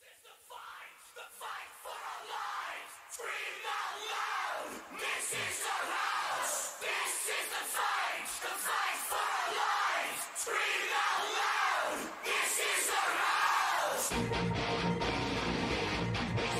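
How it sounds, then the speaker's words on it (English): Massed voices from a crowd chanting and shouting together in a song, loud and sustained with rhythmic swells, ending as the band's heavy music takes over. "Like a crowd, multiple people sound like a chant."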